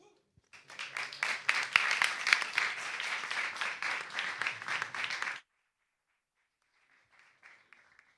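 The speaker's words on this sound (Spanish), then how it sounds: "les pedimos que le deis un fuerte aplauso" Audience at a podcast event applauds its guests, a lively burst of many hands clapping for about five seconds before stopping abruptly, followed by faint distant voices.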